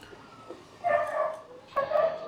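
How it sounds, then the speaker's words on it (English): A dog barks in two short bursts, the first a little under a second in and the second near two seconds, fairly close, against a quiet background. "And my dog there."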